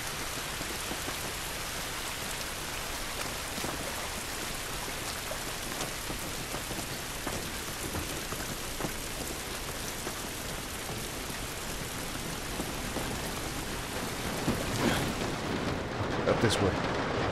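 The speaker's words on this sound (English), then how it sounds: "This rain ain't gonna do us any good." Steady rain in the video game The Last of Us, a dense continuous hiss pattering across surfaces throughout, with a few louder bursts of game action near the end.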